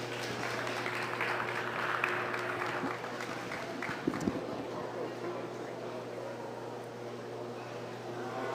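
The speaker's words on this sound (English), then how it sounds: "Let's give him a round of applause." Audience applause in the ring at a stocker feeder cattle show, a steady broad wash of clapping lasting several seconds over a constant low hum, with talk in the arena.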